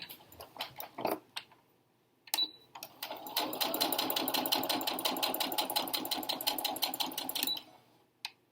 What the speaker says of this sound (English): Then I will sew along this edge here up until my first mark.